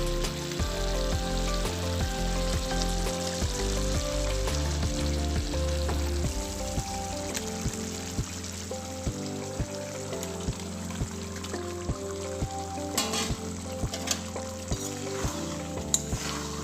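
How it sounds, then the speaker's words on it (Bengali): Chicken pieces hit hot oil in a pan and sizzle and crackle loudly and steadily, with occasional stirring clinks, and no one speaks. "এটাতে তেল বেরিয়ে গেছে, আমি এবার মাংসগুলো এতে অ্যাড করছি।"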